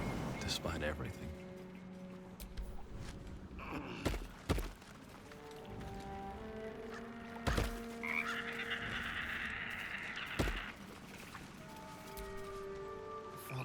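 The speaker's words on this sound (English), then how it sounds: "The frog's entire body shakes. It ribbits erratically as if in pain." Frog in the Baldur's Gate 3 video game croaking and ribbiting in an erratic, uneven rhythm, close and fairly loud, over a busy game backdrop with rain-like patter and occasional louder thuds.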